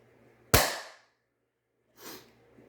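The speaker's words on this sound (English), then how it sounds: "Now here is what an MXL specific barrel Radson XL sounds like dry fired." A Radson XL blaster fitted with an MXL barrel is dry fired twice: a sharp, loud pop with a brief hissing tail, then after a pause a second, softer puff of air, close up and with no voices.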